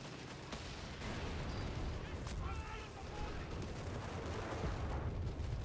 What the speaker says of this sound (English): Mortar fire's coming in